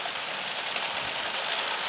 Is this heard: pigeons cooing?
no